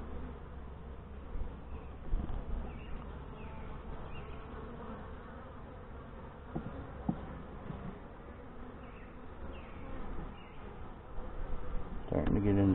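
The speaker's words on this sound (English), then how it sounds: "Starting to get in some bees here." Many Saskatraz honey bees buzz continuously up close inside a hive, a low droning hum broken by a few soft knocks and clicks.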